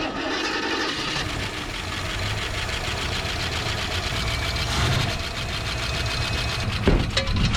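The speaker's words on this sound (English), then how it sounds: "as I revved that up, the car tried to move" Engine of a 1974 AMC Hornet left abandoned for 31 years, running roughly with a steady mechanical clatter and hum, rising a little in the middle and ending with a brief knock, heard up close and alone.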